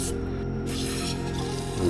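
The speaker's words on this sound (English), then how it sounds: "we'll spray a little bit" A short hiss of gun cleaner sprayed onto a Staccato XC pistol barrel close by, over a steady background hum, lasting a couple of seconds.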